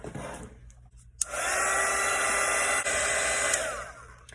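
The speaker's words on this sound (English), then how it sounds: "Just try and grab my dryer real quick." A hair dryer runs steadily to dry a watercolour painting of a vintage sledge with gifts, a continuous close whoosh that starts abruptly after a brief quiet moment and holds for several seconds.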